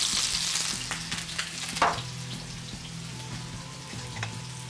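Chopped onions frying in oil on a hot tawa give off a steady close sizzle, with a few brief stirring clicks and splutters and no talking.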